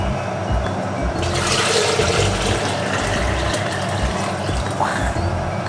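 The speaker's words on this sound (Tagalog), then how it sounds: "Iulog na natin yung tubig na pinagpakuluan." Water used for boiling poured out of a pot into a sink in a home kitchen, a steady rushing splash with a brief surge partway through, fairly close.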